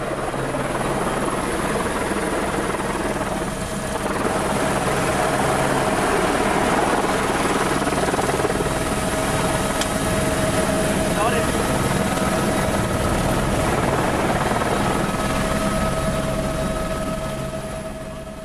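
A helicopter roars loudly and steadily overhead, its rotor and engine drone holding constant throughout.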